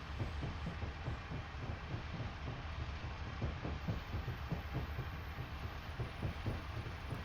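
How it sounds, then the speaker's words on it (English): A Class 50 diesel locomotive and its train passing in a train simulator game, heard as a steady rolling rumble with rhythmic clickety-clack of wheels over rail joints, continuous and fairly close throughout. "I think that's a Class 50 that's passed"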